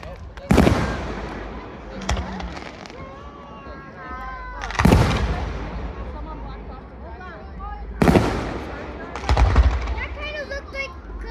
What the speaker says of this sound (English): I'm trying to watch the fireworks.